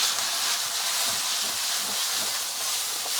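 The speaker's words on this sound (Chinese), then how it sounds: "炒出香味过后，我们加入排骨，给它翻炒均匀" Pork ribs stir-fried in a hot wok with oil, dried cuttlefish and aromatics, giving a loud, continuous close sizzle and hiss throughout.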